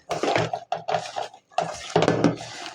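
Spice paste of turmeric, chili powder and salt is mixed with mustard oil in a bowl, giving bursts of wet scraping and clinking against the dish in short, close strokes with brief pauses.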